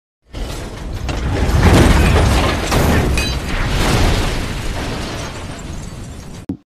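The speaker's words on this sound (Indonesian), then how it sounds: "tiba-tiba mobil yang mereka naiki meledak satu persatu." Cars blowing up one after another in an action film scene, a dense, continuous roar of blasts, bursts and shattering debris, loud and sustained for several seconds with no talk over it.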